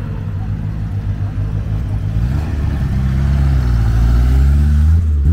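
A Renault R11 Turbo passes at a car show and swap meet in Manosque, giving a steady low engine rumble that builds slightly louder as it nears, with crowd chatter in the background.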